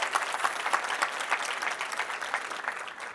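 A large audience of over a thousand people claps in a hall, a dense, steady patter of applause that gradually thins toward the end.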